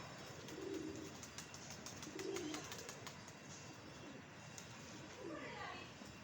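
Pigeons at a pigeon club, including a golden bird, coo softly in a few low, repeated calls beneath steady background noise and talking.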